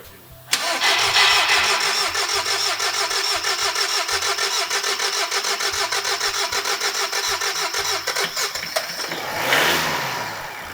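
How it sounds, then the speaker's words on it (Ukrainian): A Skoda Octavia 1.6 TDI diesel engine cranks and catches after fuel system repair, then settles into a loud, steady clattering idle with a rhythmic knock, close by, briefly swelling near the end. "Але вже машинка сама запускається"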